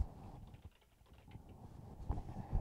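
Fingers type a short word on a computer keyboard, a quick burst of soft close clicks heard alone in a quiet room.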